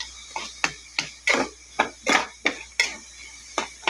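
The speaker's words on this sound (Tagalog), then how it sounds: "Kailangan madurog ang kamatis para malasa" Utensil pressing and crushing tomatoes in a pot while cooking binagoongan, giving a steady run of about a dozen sharp, close clacks and soft squishes at a brisk, even rhythm, no talking.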